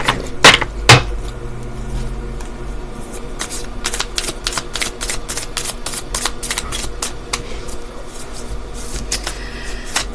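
Tarot cards being shuffled by hand, a rapid series of crisp riffling and flicking bursts, close and loud, with no talking.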